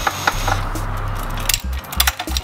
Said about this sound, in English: Next I'm going to undo this hose clamp